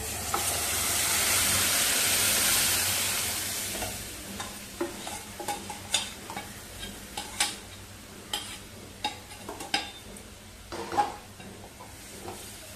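A lentil mixture for sambar is stirred in a pan. A hissing sizzle fades over the first few seconds, then a run of close, irregular spoon scrapes and knocks against the pan follows.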